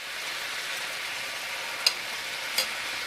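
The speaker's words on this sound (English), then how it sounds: "we're going to put another tablespoon of butter in here" Pan of wine, mushroom and caper sauce for chicken sizzling steadily as a tablespoon of butter melts in, a soft continuous frying hiss with a couple of brief sharp pops.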